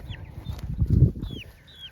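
Chickens cluck and murmur inside a chicken tractor, soft low clucking with a few higher chirps close by, steady and unhurried.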